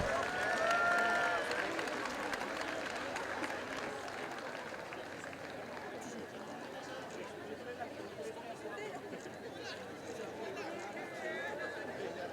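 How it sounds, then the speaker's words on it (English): A crowd at a homecoming ceremony applauds silver jubilarians with steady, moderately distant clapping that fades slightly, mixed with crowd chatter. "a round of applause to our silver jubilarians"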